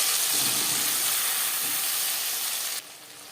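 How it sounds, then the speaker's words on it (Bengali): Tomato paste hits hot oil with fried whole cumin for a Bengali tangra fish curry, giving a loud, steady sizzle that holds for about three seconds, then drops quieter. "পনেরো 20 সেকেন্ড জিরে ভেজে নেওয়ার পর দিয়ে দেবো টমেটোর পেস্ট।"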